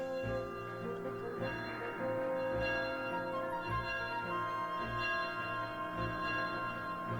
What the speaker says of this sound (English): Oh, there goes the bell.